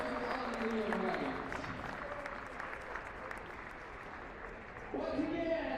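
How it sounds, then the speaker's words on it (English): A basketball crowd applauds the six seniors and their parents at a St. Francis versus Trinity Christian men's game, sustained clapping filling the gym while an announcer's voice carries over the top, swelling again near the end. "a round of applause for our 6 seniors and their parents"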